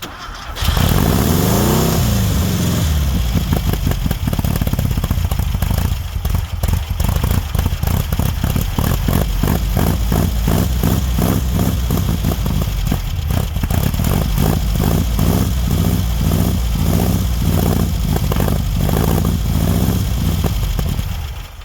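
A Volkswagen Baja Bug's small air-cooled engine, previously stuck, cranks and catches, then runs roughly with a rapid, uneven putter, revving up and down, loud and close.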